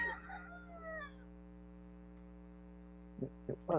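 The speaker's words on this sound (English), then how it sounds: "It was a rooster." A rooster crows outside a window at a country home, a faint, drawn-out call in the first second over a steady electrical hum, followed by quiet and a few short bursts of sound near the end.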